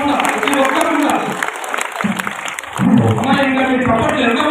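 Applause from a crowd at a Guru Purnima celebration in a Shirdi Sai Baba temple in Devarakonda, steady dense clapping that carries on under a loud amplified voice.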